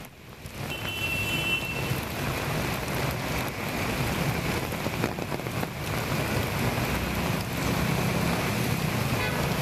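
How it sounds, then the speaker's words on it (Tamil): Steady heavy rain pours onto roads in Coimbatore, with rainwater running along the streets; a dense, continuous hiss of rain fills the scene at close range, with no voices. "சற்று மழை கொஞ்சம் ஓய்ந்திருக்கக்கூடிய சூழல்ல பல்வேறு சாலைகள்ல மழை நீரானது வழிந்து ஓடிக்கொண்டிருக்கக்கூடிய காட்சி நம்மால் பார்க்க முடிகிறது"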